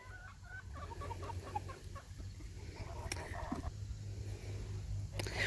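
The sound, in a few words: chickens clucking on a farm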